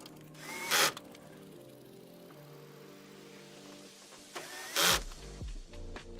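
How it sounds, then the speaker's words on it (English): A power drill driving screws, two short loud whirring bursts near the start and near the end with quiet handling noise between them. "Oh shoot, I put in 2 screws I really didn't need to."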